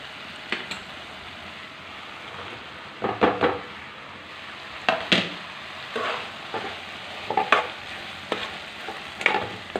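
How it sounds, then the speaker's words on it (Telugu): Okra for a tomato curry fries in a pan, a low background sizzle broken by repeated bursts of spatula stirring and scraping. "ఇప్పుడు బెండకాయలు వేసుకుందాం"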